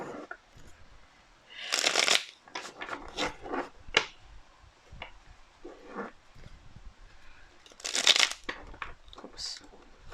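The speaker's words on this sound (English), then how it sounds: "I'll shuffle here on camera a couple times." Brisk riffle shuffling of a tarot card deck, several bursts of fluttering card sounds separated by short pauses, close and fairly loud.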